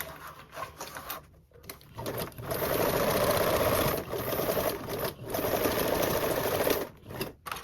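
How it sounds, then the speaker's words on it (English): Sewing machine basting fabric at an eighth-inch seam, running in several bursts of steady rapid stitching with short pauses between, close and clear. "Now we can baste this on with a 1/8 seam allowance."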